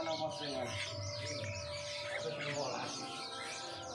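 Jalak kapas starlings chirping and tweeting in quick, overlapping calls, faint and somewhat distant over a low background murmur.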